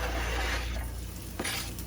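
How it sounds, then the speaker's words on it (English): Onions crackle and sizzle steadily in hot oil, a dense close hiss with a low rumble underneath and a brief scrape near the end. "that's the sound that you want to hear. That sizzle."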